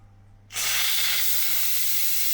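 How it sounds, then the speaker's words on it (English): Steam bursts from an Instant Pot on quick release after cooking a beef casserole, a sudden loud, steady hiss that starts abruptly and holds without fading, with no voices. "Right, the Instant Pot's just finished. Now I want to do a quick release."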